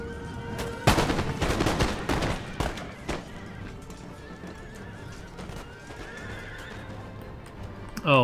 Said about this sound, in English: Like in this mighty volley.